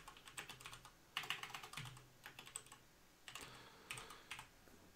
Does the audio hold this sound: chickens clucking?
no